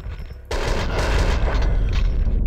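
Gunfire in the video game Max Payne 2, a sudden loud burst that starts after a quiet moment and continues as dense, sustained shooting.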